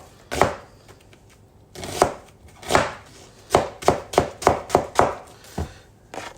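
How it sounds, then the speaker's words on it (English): A knife slicing onions on a chopping board, with a dozen close, crisp thuds, first spaced apart and then falling in a quicker rhythm, with no voices. "You want about 3 onions. I'm going to slice them."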